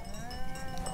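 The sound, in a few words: sheep bleating on mountain pasture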